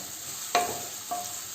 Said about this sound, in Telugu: ఫ్రై చేసేసుకుందాం మన ఆనియన్స్ని.